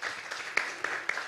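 Audience applause welcoming a speaker at a Korean peace forum in Jeju, a continuous patter of clapping from a seated crowd with a few sharper claps rising out of it.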